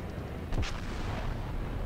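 Naval gunfire in World of Warships, a Yamato battleship's main guns loosing a salvo during a chase, a single deep boom rising over steady engine and sea rumble midway through.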